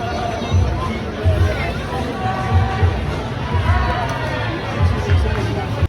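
A chaotic crowd in central London, where a commercial is being filmed, fills the air with a steady babble of many overlapping voices and general hubbub.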